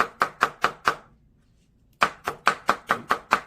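Close, crisp cleaver chops of zucchini on a cutting board with a Chinese cleaver, a quick run of five strokes, a pause of about a second, then another steady run of seven chops.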